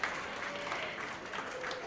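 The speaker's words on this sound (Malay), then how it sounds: "bagi tepukan sikit." An audience at a company recognition event gives a short round of applause, a dense patter of clapping filling the room for a couple of seconds.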